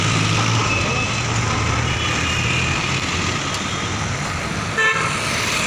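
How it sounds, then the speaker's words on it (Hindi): Busy road traffic of cars and trucks in Nagpur in the evening, a constant loud roar of engines with scattered horn toots and beeps. "देख लो कतका गाड़ी मोटर चला"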